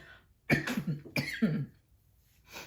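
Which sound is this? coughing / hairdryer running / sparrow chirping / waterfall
coughing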